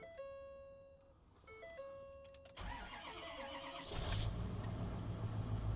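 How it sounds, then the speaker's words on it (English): An aging auction vehicle's engine cranks over and catches, preceded by chiming warning tones, then settles into a steady idle that grows louder. "Let's see what happens if I try to turn it over."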